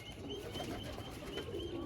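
Pigeons coo softly and repeatedly in low, rolling phrases over a faint background hiss, heard at a moderate distance without any talk.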